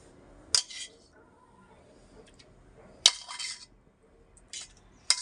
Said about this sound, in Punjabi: ਇਹਨਾਂ ਨੂੰ ਆਪਾਂ ਚੰਗੀ ਤਰ੍ਹਾਂ ਕੁੱਟ ਲੈਨੇ ਆ